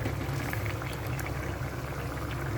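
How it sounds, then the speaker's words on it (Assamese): A pot of prawn and pumpkin curry boils, a dense, steady bubbling and gurgling of liquid heard close up and alone. "এয়া উতল আহিছে।"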